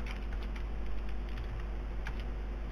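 Close keyboard clicks come in quick, uneven bursts over a steady background hum, with no one speaking.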